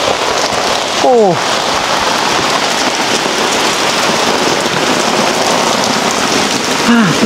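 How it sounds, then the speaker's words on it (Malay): Steady rain patters hard on a surface throughout at a cultural village in Kuching, Sarawak, a dense continuous hiss, with a brief higher squeak or chirp cutting through twice. "Hujan kita basah baju."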